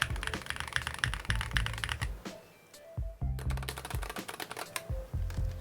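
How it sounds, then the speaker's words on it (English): Fast typing on an Epomaker HE75 plastic-bodied keyboard, a dense run of close, crisp key clacks with a brief pause near the middle, then the rapid keystrokes resume. "let's hear the little bit of a sound difference between these two keyboards"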